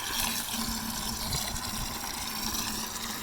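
Cold water runs steadily into an RV water system with the pump switched off, a continuous rushing, hissing flow with a faint low hum beneath and no voices.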